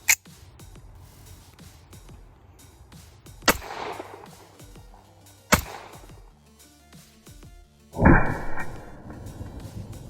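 A 1918 Colt 1911 pistol firing an old-ammunition magazine, a few sharp loud shots spaced seconds apart with quiet handling sounds between and a louder blast near the end.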